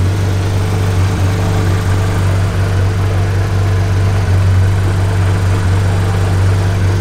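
A Porsche 991.1 GT3 RS engine hums as a steady, loud, low drone heard from inside the car, holding an even pitch throughout with no voices.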